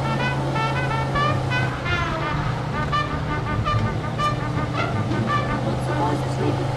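A car driving through traffic in Mafia II, with a low engine hum and road noise under someone talking, while music plays over the car radio.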